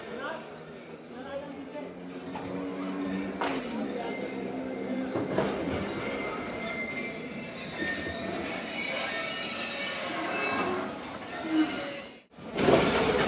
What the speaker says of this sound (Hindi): 10:42 पर 7 अप तेज़गाम रवाना हो चुकी है नवाबशाह रेलवे स्टेशन से